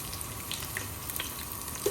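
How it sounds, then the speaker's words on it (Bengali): Green chilies and onion sizzle in hot oil in a cooking pot for khichuri, a steady, fairly soft frying hiss running throughout with no talk. "কাঁচামরিচ পেঁয়াজ দিয়ে দিই আর কি।"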